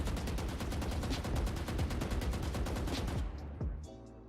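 An automatic rifle in Valorant fires a long, sustained burst of rapid, evenly spaced shots, then stops abruptly, leaving a brief fading tail.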